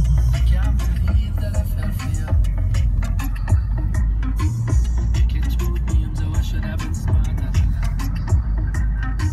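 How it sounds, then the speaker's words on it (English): A Ford Focus ST drives along with a loud, steady engine and road rumble heard from the cabin, while people talk throughout over the noise. "It's a Ford Focus ST and it is quick."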